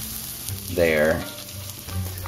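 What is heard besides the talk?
cranberry sauce mixture sizzling as it goes into a hot pot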